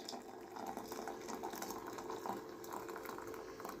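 Boiling water poured steadily over fava beans in a pot, a continuous soft rushing splash with no voices.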